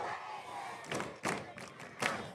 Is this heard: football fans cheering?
yes